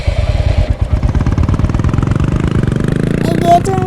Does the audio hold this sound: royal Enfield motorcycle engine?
yes